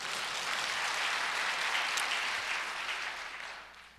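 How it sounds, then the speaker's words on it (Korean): A church congregation applauding, a dense, even wash of many hands clapping at moderate distance that holds steady, then fades out toward the end, with no talk over it. "김채화 형님 박수 한번 해주세요"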